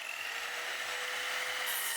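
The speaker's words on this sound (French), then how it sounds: "Des scies et des perceuses, il n'en faut pas beaucoup plus pour faire du neuf avec du vieux." Wood is worked with saws and drills in a repair workshop, giving a steady, close rasping and rubbing noise with faint rhythmic strokes underneath and no talking.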